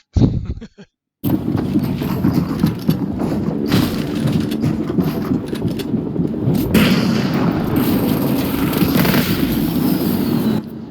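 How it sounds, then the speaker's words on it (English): A shotgun firing in a Fortnite solo match: a few sharp, close blasts at the start, then a dense, loud wash of game combat noise that carries on steadily. "And there's a shotgun shot."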